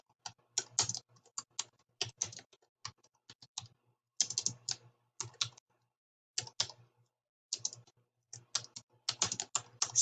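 Typing on a computer keyboard while entering a name and address: close, crisp key clicks in quick irregular bursts separated by short pauses, with no talking.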